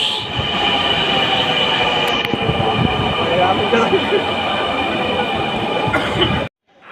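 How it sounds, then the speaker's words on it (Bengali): Metro rail train at a station, a steady loud rumble and hiss of the running train with faint squealing tones, continuous for about six seconds before cutting off abruptly, with voices faintly mixed in. "আমরা এই ট্রেনে উঠবো, ওইটা হচ্ছে অন্য দিকের ট্রেন।"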